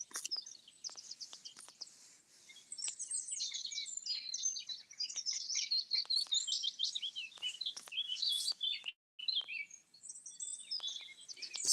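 Birds chirp and call outdoors beside a 13th-century church and cemetery, a busy overlapping chorus of high tweets and trills, faint at first and then steady and fairly close for most of the stretch.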